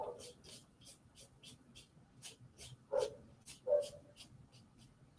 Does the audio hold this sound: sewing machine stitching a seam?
no